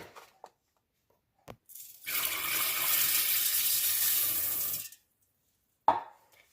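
Rice and lentils are rinsed together under a running tap, and the water gushes steadily for about three seconds. A few soft clicks and knocks come before and after; there is no speech.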